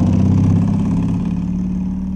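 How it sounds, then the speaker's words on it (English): Car engine of an island district nurse's car on Cape Clear, Co. Cork, idling nearby with a steady low rumble that eases slightly toward the end. "But a car is essential for the district nurse, Banny Inn."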